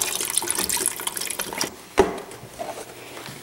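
A full 32-ounce carton of vegetable broth poured steadily into a pot, a loud continuous gushing splash that thins out and ends with a few softer sloshes and drips.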